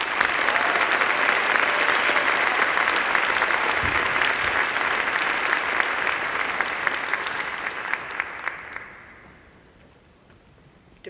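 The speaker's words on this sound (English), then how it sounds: "Please join me in a round of applause for the graduating class." A large audience at a Faculty of Natural Sciences graduation ceremony applauds the graduating class with sustained, dense clapping that holds steady for about nine seconds, then fades away near the end.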